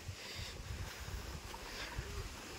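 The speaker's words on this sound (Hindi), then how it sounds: "अपना ये मोटर का पानी चल रहा है दोनों पाइप पे" Water from a farm motor pump gushing steadily through two pipes outdoors, a continuous rushing wash with wind noise and no voices.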